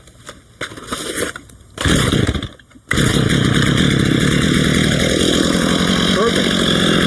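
A Stihl MS 230 chainsaw being tuned up restarts without choke: a few sputtering pull attempts, then it catches and runs loud and steady close by.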